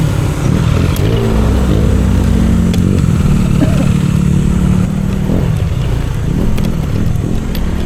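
Honda Click125 V3 scooter riding on a road near Bagac toward Mariveles, with a steady engine drone and wind rumble throughout, close and fairly loud, and occasional faint voices.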